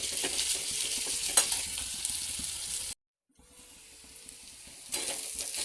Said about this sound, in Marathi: थोडंसं फ्राय करायचं.